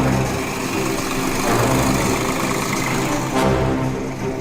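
A tractor engine at a farmers' protest by the Punjab–Haryana Shambhu border runs close and loud in a steady, rattling rumble, with no voices over it.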